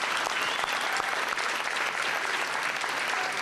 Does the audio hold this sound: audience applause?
yes